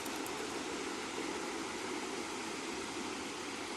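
A waterfall in the hills near Paderu rushes in a steady, dense roar that holds constant and fairly close throughout, with no voices.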